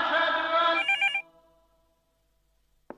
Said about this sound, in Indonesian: Beberapa menit kemudian dering telepon Rifat B terdengar